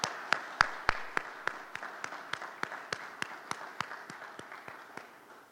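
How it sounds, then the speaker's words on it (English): An audience at an awards ceremony gives a slow, steady round of claps, each sharp clap distinct and evenly spaced, fairly faint and a little distant, fading slightly toward the end. "can I please ask the class of 21 to applaud your colleagues from the class of 2020?"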